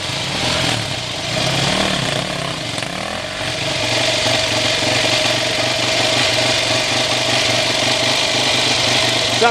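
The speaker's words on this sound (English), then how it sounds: "Sounds like a two-stroke." A two-stroke motorcycle engine idles at a creek crossing, a steady mid-pitched putter with a brief dip partway through, fairly close, with faint background activity.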